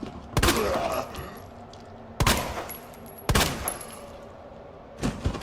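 Gunfire in the survival horror game Resident Evil 2 Remake: four sharp, loud shots spaced about a second apart, each with a ringing tail, with no talking.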